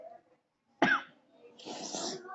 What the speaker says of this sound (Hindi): आज तो फिर भी गले में अच्छा है, लेकिन खांसी हो गई है थोड़ी।